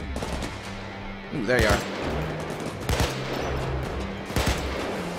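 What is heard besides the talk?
AK rifle gunfire in Payday 2 video game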